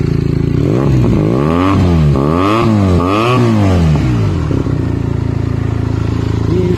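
A Benelli TNT 300 with an IXIL X60 exhaust and dB killer revs hard four times in quick succession, each rise and fall sharp and loud, then settles back to a steady idle close by.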